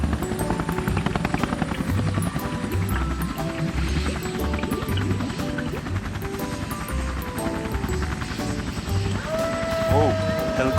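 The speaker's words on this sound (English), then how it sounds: "Oh, helicopter rescued us." An animated cartoon helicopter chops steadily through a busy city rescue scene, its rotor throbbing loud and continuous under cheerful music and scattered voices, with other sound effects popping in near the end.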